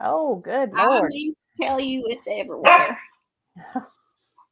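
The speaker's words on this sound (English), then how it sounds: "Yeah, it's my dog." A pet dog barks and yips repeatedly nearby in a series of sharp bursts, while people talk over and between the barks.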